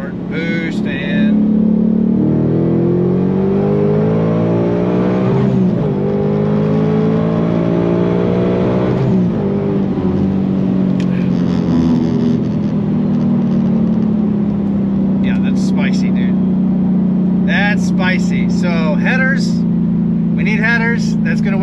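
A supercharged, E85-fueled 2021 Ford Mustang Mach 1 with a smaller pulley runs at wide open throttle, its loud engine note rising through the revs with a whining supercharger, dipping at gear shifts, then someone talks over the engine afterward.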